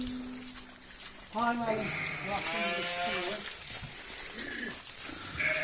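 Sheep bleat in wavering, drawn-out calls, several overlapping, with people talking nearby in an outdoor setting.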